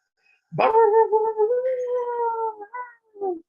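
A storyteller's voice imitates a coyote learning to bark, a rising yelp drawn out into a wavering howl-like whine followed by two short yips, close and clear with no other sound.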